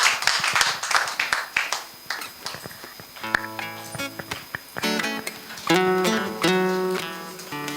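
A church congregation claps in steady rhythm, with loud, dense clapping at first that continues alongside music and singing as the applause goes on.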